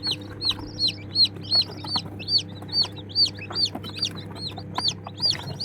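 Newly hatched chicks peeping in a rapid, regular series of high chirps at the end of egg hatching, with faint low clucking from chickens beneath; no talking.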